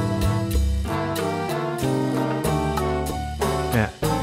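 A guajira sung in Portuguese, arranged for woodwinds with trombone and a warm wood-and-metal bass clarinet on the bass line, plays as a steady, full ensemble with rhythmic accents and no talking.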